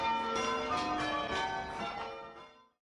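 Carillon bells at Grace Cathedral ring out in a dense, overlapping peal of several struck bells, sustained and resonant, then fade away at the end.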